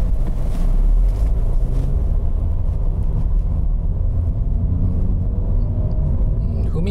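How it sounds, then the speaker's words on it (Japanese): Engine of a new Honda Fit pulling steadily on a public road, a loud, continuous low drone that builds smoothly with wind and road rumble from inside the cabin. "回転数がバーンと上がっちゃったりしないで、こうグググググッと粘りながら上がっていくかのような、そんな感じがします"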